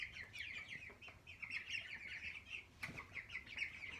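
Broiler chickens and a rooster kept at home, giving soft continuous chirping and clucking close by, with a brief rustle or flap of wings partway through and no talk.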